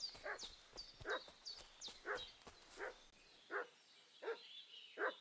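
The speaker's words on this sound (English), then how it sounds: "Is that my dog barking?" Dog barking in the video game Kingdom Come Deliverance 2, a run of about seven evenly spaced barks at moderate distance, accompanied by high chirping birdsong in the background.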